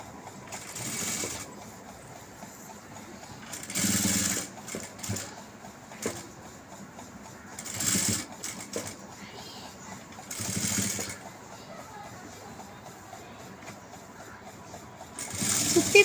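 Sewing machine stitching elastic onto a nightie in short, close bursts of rapid mechanical chatter, about six runs separated by quiet pauses.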